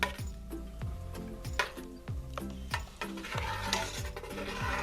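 Milk curds and whey for homemade ricotta are stirred in a pot, with a spoon making regular, close clinks and soft scrapes against the metal in a steady rhythm.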